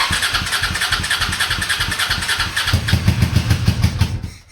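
A Honda Shadow motorcycle with a weak fuel pump, running lean on full choke, cranks and catches into rough, loud, rhythmic firing pulses that grow stronger before cutting off abruptly.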